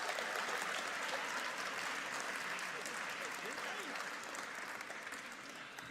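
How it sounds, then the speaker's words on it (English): A crowd applauds steadily at a music awards ceremony, a dense wash of clapping that stays even and fairly distant, slowly thinning toward the end. "Give him a big round of applause."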